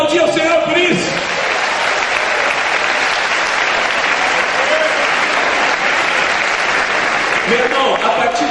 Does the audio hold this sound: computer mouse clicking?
no